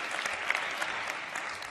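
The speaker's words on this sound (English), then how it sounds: "a round of applause for the two gentlemen" A short burst of dense applause from a conference audience, even and sustained, with no speech.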